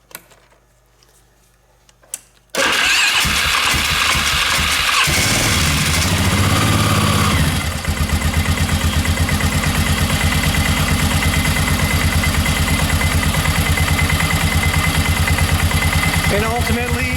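A Polaris Sportsman ATV with a freshly changed drive belt starts up after a quiet moment and settles into a steady, loud idle, its engine running on close by for the remaining seconds.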